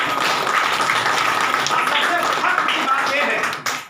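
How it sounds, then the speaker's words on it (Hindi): A crowd claps a loud, steady welcome for a guest at a village panchayat gathering in Aurangabad, Bihar. Dense applause fills the whole stretch and tapers off near the end, with voices mixed in. "इनके लिए भी एक जोरदार स्वागत ताली से बात"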